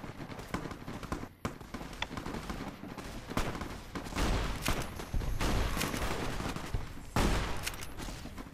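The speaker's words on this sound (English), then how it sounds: "I shot the NCR" Gunfire in the video game Fallout New Vegas, with a shotgun among the weapons: rapid overlapping shots and bursts, loud and dense, sounding like a chaotic firefight.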